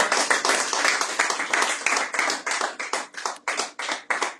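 A church congregation claps to acclaim the Lord during a Sunday service, with many hands in a steady, rhythmic beat that thins out toward distinct separate claps.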